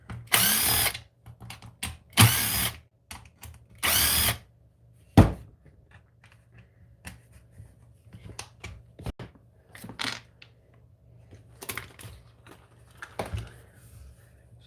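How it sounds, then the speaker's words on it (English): An RC car chassis is cut down with a power tool in a workshop: several short, loud bursts of cutting or drilling separated by pauses, then quieter clicks, taps and handling noises close by. "I've got to cut the chassis down to make it fit."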